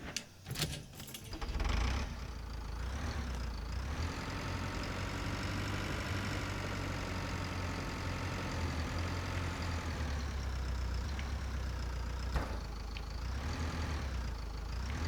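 A medium tractor engine idles steadily in the Saturday Simulator video game, a continuous low rumble with a brief rattle at the start.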